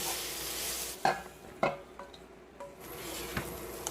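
Burdock root stir-fried in a pan, a quiet sizzle broken by a few sharp scrapes and clacks of the utensil against the pan.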